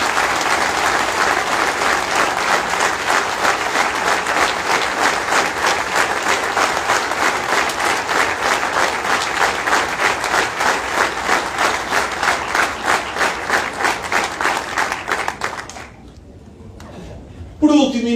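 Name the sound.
audience applause at political candidate presentation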